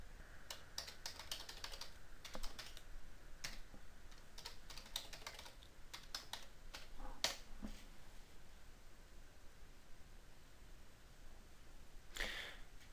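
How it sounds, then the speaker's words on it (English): Quick, light keystrokes on a computer keyboard come in short bursts with brief pauses, close and quiet, ending in a final flurry of taps, with no voices. "Type your username and your password into the two boxes provided."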